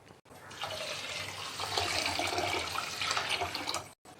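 Rice for appam batter being rinsed by hand in water, a steady, close splashing and swishing that runs for about three and a half seconds without a break, then stops abruptly.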